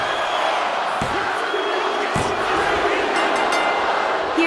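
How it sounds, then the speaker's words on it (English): Wrestling arena crowd in the video game WWE 2K25 roaring steadily and loudly throughout, a dense sustained cheer with a couple of sharp impact thuds in the mix. "The crowd is electric, sensing the end is near for Sheamus"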